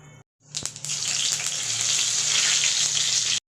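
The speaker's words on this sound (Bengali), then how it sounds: "শুকনো লঙ্কা ফোড়ন দেব।" Cumin seeds, bay leaves and dried red chillies hit hot oil for khichuri tempering: a brief clatter, then a sudden loud, steady sizzle that holds close and even before cutting off abruptly.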